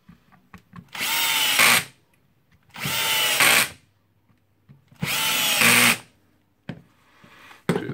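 Three separate whirring bursts of a Bosch GSR 18V cordless drill driving screws back in during a repair, each lasting about a second, close and loud with quiet gaps and small clicks of handling between them.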